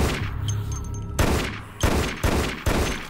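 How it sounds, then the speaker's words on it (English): Weapons fire in the video game Dead Effect, starting with a dense burst and then giving way to four separate loud, sharp shots at a steady rhythm. "The gun sound effects are pretty decent."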